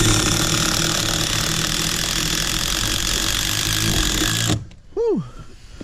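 A power driver runs steadily and loudly as it drives sheet metal screws into a pillar swap bracket on a 1999-2007 truck, then cuts off sharply, followed by a brief whistling exhale.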